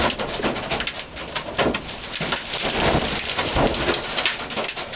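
Heavy rain pours down during a lightning storm with a tornado nearby, forming a dense, loud, continuous roar, with thunder rumbling beneath it and no voices.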